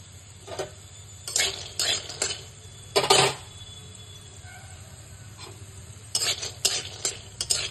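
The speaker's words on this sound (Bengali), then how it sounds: "তো সেই বাদামগুলো ছাড়িয়ে এখন একটু ভাজছি" Shelled peanuts with a little salt stirred in a pan while frying, giving soft background sizzle broken by several bursts of scraping and rattling as the nuts are tossed, close and fairly quiet.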